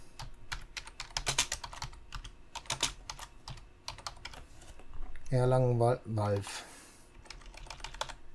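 Rapid clicking of keys on a computer keyboard, typed in quick uneven bursts while entering a station name in the Simutrans pak192 comic game. A voice briefly speaks over the clicks partway through.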